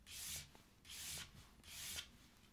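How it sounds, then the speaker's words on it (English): Three even, forward strokes of sandpaper rubbing across a small metal clay piece, each a soft, close scratching swish separated by brief pauses. "I sand in a forward motion,"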